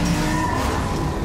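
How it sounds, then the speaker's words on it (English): A roaring racing car engine from The Crew 2 fills the moment, loud, close and steady, with a tire-squeal edge and no voices. "The roar of the engine."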